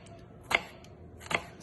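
Two crisp knife strokes slicing through a shallot on a cutting board, spaced about a second apart, close and fairly quiet with a soft background hum between them.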